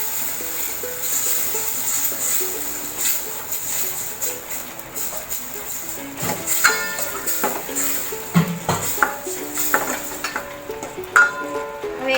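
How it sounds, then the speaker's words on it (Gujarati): A spiced mixture of salt, turmeric and chili powder is stirred in a pan for papdi chaat ragda, with close scraping, clinks of the spoon against metal and a soft sizzle running throughout. "હવે એને આપણે હલાવી દઈશું."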